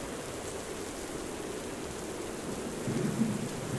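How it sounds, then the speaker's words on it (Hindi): Heavy rain pours in a steady, dense hiss with a low rumble of thunder swelling near the end of a short stretch, and no voices. "तेज बारिश शुरू हो गई।"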